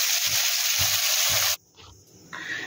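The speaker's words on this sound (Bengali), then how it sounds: "এইভাবে আমি দেখো এক এক করে সবগুলো ভাজবো।" Cauliflower fries in a pan of hot oil for bread upma, a loud continuous sizzle with soft stirring knocks for about a second and a half, then it cuts to near quiet with faint clatter.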